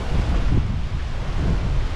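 Strong wind from Hurricane Ian batters a flooded dock in the Florida Keys, a loud, constant low roar of gusts buffeting the microphone with water surging underneath, and no voices.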